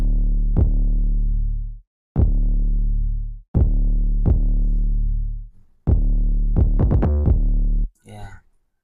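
Deep 808 bass notes from an FL Studio beat, trimmed with a long decay, sounding as a series of booming sustained hits, a quicker cluster near the end, followed by a brief burst of voice.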